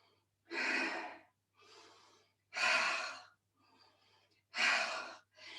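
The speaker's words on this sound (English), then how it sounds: "Breathing out as I close, inhaling." Slow, deliberate yoga breathing close to the microphone: three loud, drawn-out exhales alternate with softer inhales in an even rhythm, separated by brief silences.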